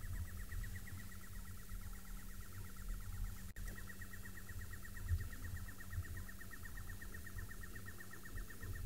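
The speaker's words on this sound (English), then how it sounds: "Can you hear the birds?" Birds call outdoors on a safari wildlife livestream, a steady run of rapid repeated chirps carrying on throughout over a low rumble of wind or distant background noise.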